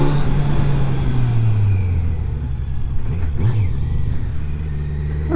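A 2020 Kawasaki Z900 motorcycle engine rumbles steadily up close, the pitch dropping and then climbing briefly as the bike pulls away under acceleration.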